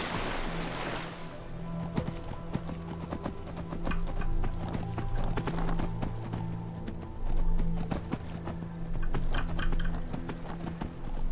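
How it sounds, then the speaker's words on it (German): Horse hooves clip-clop in a steady rhythm in the video game Skyrim as the horse gallops and then swims, with splashing water and a brief whinny, all fairly faint and without talk. "Das Pferd kann auch super schwimmen."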